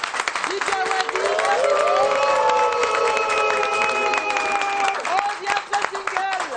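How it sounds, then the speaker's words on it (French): A TV show audience claps and cheers for guests including DJ Awadi, with loud sustained applause, shouts and whoops, and rising tonal voices over the clapping that fades slightly near the end. "j'aimerais qu'on applaudisse bien pour nos invités ce soir"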